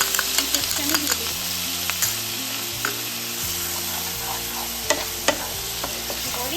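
Garlic and onion fry in a pan next to tomato, making a continuous close sizzle with occasional stirring clicks, while low music plays underneath.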